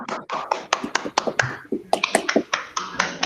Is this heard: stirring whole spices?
no